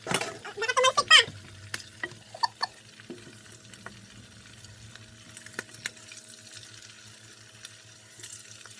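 Vegetables for pansit are stirred and mixed in a frying pan. A quick burst of clattering and scraping opens, then only sparse, quiet scrapes and clicks follow.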